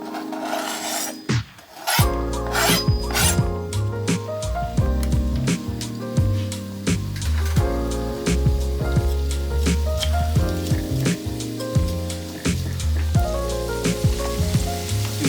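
Onions fry in quinoa oil in a pan, a loud continuous sizzle and crackle heard close up with no talking, partly overlaid by steady background music.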